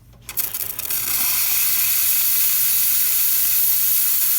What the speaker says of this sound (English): And now we'll do some steam.